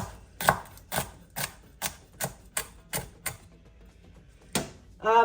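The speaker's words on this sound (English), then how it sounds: "chop it up" Spinach (palak) chopped with a knife on a board, about ten crisp, evenly spaced knocks close up, a short pause, then a final couple of cuts, no voices.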